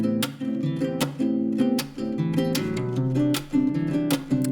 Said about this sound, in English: this looping guitar part that's kind of the foundation of the whole song